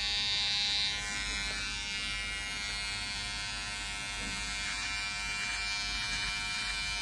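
Electric hair clipper trimming a Gulf-style goatee beard, a steady close buzzing drone that runs continuously throughout, slightly louder at the start, with no talking.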